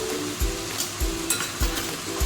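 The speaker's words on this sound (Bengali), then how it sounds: "দিয়ে এটাকে আস্তে আস্তে এইভাবে কষিয়ে নেব" Spices and chicken filling for homemade chicken egg rolls frying in a pan, a close hiss punctuated by regular dull scraping strokes about every half second as the mixture is stirred.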